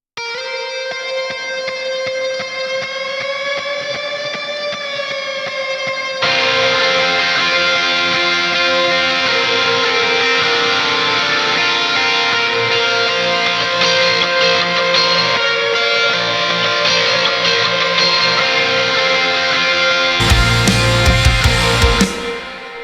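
An electric guitar bend drenched in heavy, nearly maxed-out reverb sustains and sings within a full band mix, with the sustained tones ringing on until a burst of louder distorted texture near the end.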